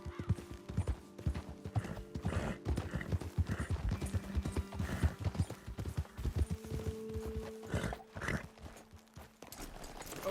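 Horse hooves clip-clopping in the video game Red Dead Redemption 2, a steady close run of hoofbeats from more than one horse with tack jingling and a brief whinny.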